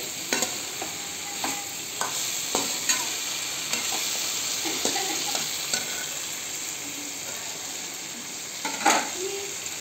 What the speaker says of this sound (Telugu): ఇప్పుడు ముందు వేయించి పెట్టుకున్న ముల్లంగి ముక్కలు వేస్తాను. చక్కగా కలుపుకోవాలి.